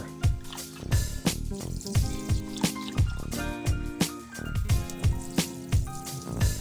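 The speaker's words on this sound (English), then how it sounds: "I'm going to start off by washing the rice several times until the water runs mostly clear." Sushi rice being washed by hand in water, with repeated drips, squishes and sloshing splashes in an uneven rhythm, close and moderately loud, with no talking.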